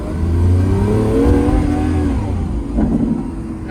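Lamborghini Countach engine revving, a loud close burbling rev that rises and settles, then a second shorter blip of throttle with a gurgling exhaust note.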